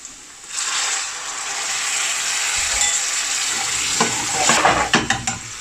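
About a quarter cup of water poured into a hot pan of king prawn bhuna and onions, setting off a loud, close, continuous sizzling hiss, with stirring clatter and scraping toward the end.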